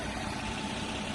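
A 2013 Kia K7 with a 3.0-litre engine and 216,000 km on it idles steadily, giving a continuous, even, close-up engine hum with no speech.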